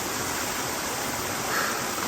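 A waterfall among rocks and moss in nature pours as a steady, dense broadband rush, loud and unbroken, with no voices.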